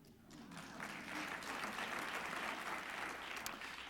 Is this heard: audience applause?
yes